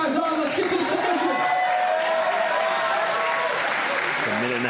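Crowd at an MMA fight applauding and cheering as two fighters battle for a submission, loud and sustained, with an announcer's voice and shouts carried over the noise.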